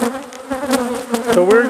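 Honeybees buzzing loudly and steadily on a capped-brood frame lifted from a beehive during an inspection, a close, continuous droning hum that swells and wavers.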